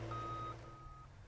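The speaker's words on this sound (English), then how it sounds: "Even though the backup alarm is sounding" Backup alarm of a John Deere compact wheel loader, two faint high beeps about half a second each, with steady engine rumble underneath and no voices.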